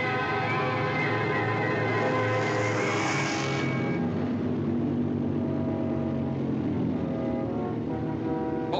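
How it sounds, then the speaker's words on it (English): Aircraft engine throttling back in a 1953 war film: a loud, droning propeller-engine roar whose tone drops and settles partway through, with a hiss early on, and no talk over it. "What was that? The engine changed its noise."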